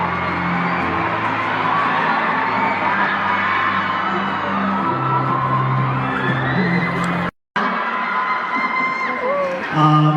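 A large fan crowd at a stage event roars with shrill screams and whoops as a performer is welcomed to perform, a dense sustained din that cuts out briefly and then carries on.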